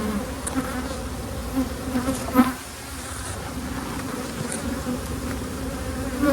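Honeybees buzzing around an open hive during an inspection, a dense, steady swarm hum close by, with individual bees zipping past and faint handling sounds, no talking.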